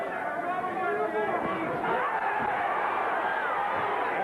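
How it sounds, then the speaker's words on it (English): A boxing crowd in Queens, New York fills the space with a dense, continuous roar of chatter and shouting, a steady hubbub with no single voice standing out. "And this is a David Sears crowd direct from Queens, New York."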